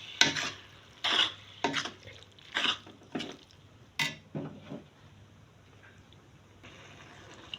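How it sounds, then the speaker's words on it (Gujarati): A spoon stirring cabbage and tomato curry in a pan, giving about eight separate scraping, clinking strokes in an uneven rhythm over a soft sizzle, close and fairly quiet, with long gaps between strokes. "હવે ટમેટાએ જે પાણી મૂક્યું છે એ બળે ત્યાં સુધી આપણે એને હલાવતા રહીશું।"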